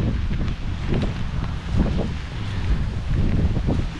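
Steady gusting wind buffets the microphone on a rainy beach near a marina in San Diego during a storm, a low continuous roar with surging swells, no voices.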